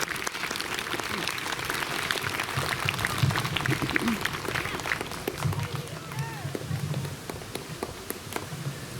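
Audience applause for two fourth grade students at a school Veterans Day celebration, steady and moderate throughout with scattered sharp claps, a few voices mixed in.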